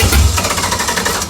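An LS V8 swapped into a Scion FR-S cranks and churns with a loud, dense, low rumble, steady and close throughout with no pauses.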